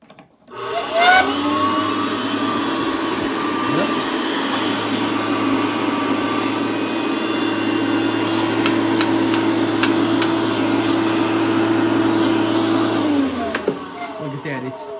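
An old cast iron, porcelain-coated dryer in a plumbing and heating shop starts up and runs with a steady, loud motor hum and blower whoosh, then winds down near the end.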